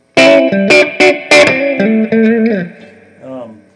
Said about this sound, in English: I can really hear that reverb